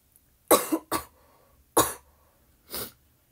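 Four short, harsh coughs, two close together then two spaced apart, fairly close with quiet between them.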